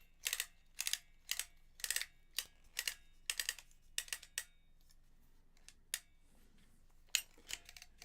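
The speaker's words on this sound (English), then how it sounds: "Oh, cut them with a pair of scissors." Pair of scissors snipping plant labels for a forest garden, a run of quiet crisp clicking cuts in quick succession that thins out to a few scattered snips, close and alone.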